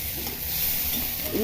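Onions frying in a pan for a spicy Bengali fish curry with plenty of green chillies, giving a steady sizzle with light stirring scrapes, close and moderately loud.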